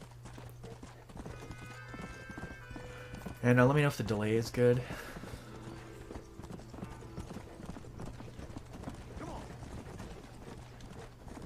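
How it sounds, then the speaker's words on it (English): Horse hooves clip-clop steadily while riding in the Red Dead Redemption video game. A brief neigh rises partway through, and someone talks over the hoofbeats. "you should be hearing him like hear some hooves"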